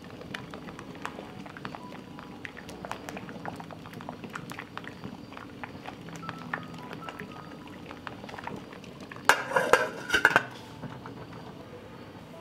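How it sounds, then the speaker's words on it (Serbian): Water boiling in a covered pot holding jars, with a low steady bubbling and rumble and a brief burst of metallic clattering near the end. "od momenta kada voda proključa ostavit ću da se kuva"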